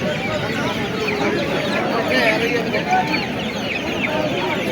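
Guinea fowl clucking at a busy traditional village market in Puthia, a steady stream of overlapping calls close by amid crowd chatter and bargaining voices.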